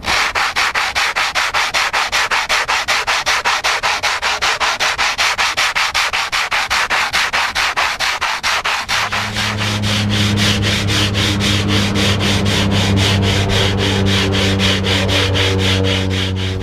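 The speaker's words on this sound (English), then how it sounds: "This is a diamond embedded hone that will take this down to whatever texture we want." A diamond-embedded hone sands a lightweight catamaran countertop in a steady, loud, continuous rubbing rasp with a fast rhythmic pulse, and a sustained low motor hum joins partway through.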